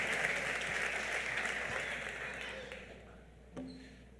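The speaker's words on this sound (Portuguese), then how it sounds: "Aplauda o nome de Jesus" A church congregation claps together in a sustained burst of applause that gradually fades out, ending in near quiet with a single bump.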